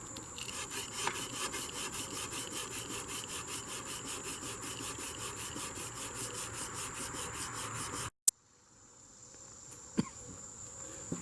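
Rhythmic hand sanding with 220 grit sandpaper, a steady rasping back-and-forth stroke for about eight seconds, then a sudden stop into a quiet room with a couple of small knocks.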